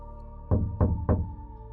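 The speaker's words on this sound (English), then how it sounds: "A soft tapping sound." Three soft, evenly spaced knocks on wood sound against a low steady hum in a horror story, each a dull muffled thud.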